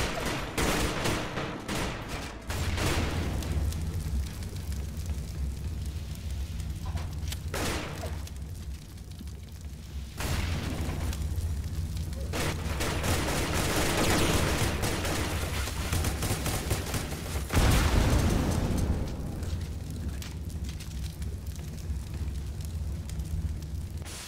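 Dense video game combat with continuous heavy gunfire and booming explosions, loud and sustained throughout with rolling blasts and no break.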